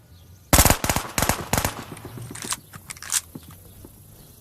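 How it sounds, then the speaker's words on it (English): Machine pistol fire in Call of Duty: Vanguard: several rapid bursts of close, loud shots in quick succession, followed by quieter mechanical clicks and handling sounds as the magazine reloads, with no talking. "now we must wait for the magazine count to update before we can watch him shoot it again"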